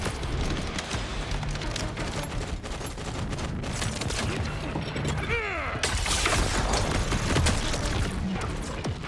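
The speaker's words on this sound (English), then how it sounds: "Getting shot at just means you get to shoot back." Sustained gunfire and impacts in the video game Borderlands 4, a dense, loud fusillade of shots with crashing, shattering bursts running throughout, plus a swooping effect in the middle and a voice briefly heard.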